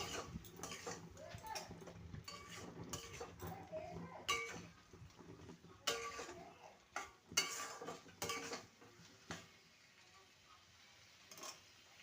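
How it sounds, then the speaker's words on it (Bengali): A utensil scrapes and clinks against a pan as fried potato and ridge gourd are stirred into spices, the strokes coming in irregular bursts at close range over faint background noise. "এবার ভেজে রাখা আলু আর ঝিঙে দিয়ে দেবো ভালো মতন কষিয়ে নেব"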